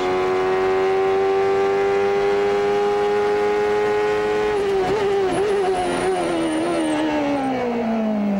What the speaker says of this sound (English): let's just ride with Rahal for a lap or 2 here and watch the closure, and also we can get an idea of the gear changes